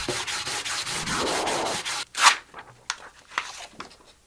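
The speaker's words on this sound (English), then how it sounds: "I'm gonna use this squeegee to" A squeegee drags paint across a textured surface in a long, steady scraping rub, followed by a few short separate swipes and scrapes.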